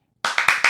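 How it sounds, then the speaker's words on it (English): A quick run of hand claps, close and loud, with three or four sharp slaps in rapid succession after a moment of silence. "that was triple clap"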